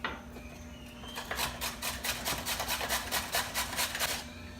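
A kitchen machine grates pumpkin in a fast, even run of rasping strokes, close and fairly loud, over a low steady motor hum.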